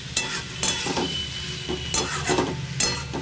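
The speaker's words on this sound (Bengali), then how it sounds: "দেখুন আমার মশলা কষানো কমপ্লিট।" Spices for a vegetarian potato, pointed gourd and pumpkin curry are stirred and sautéed in a pan, with a quiet sizzle broken by several sharp scraping strokes of the spatula at an uneven rhythm.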